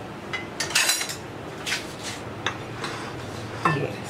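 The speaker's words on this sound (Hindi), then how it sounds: "अब आप इसको अच्छी तरह मिक्स कर लें।" Salt and black pepper get mixed into a chicken nugget mixture, with a spoon scraping and clinking against a bowl in several short, close strokes separated by quiet pauses.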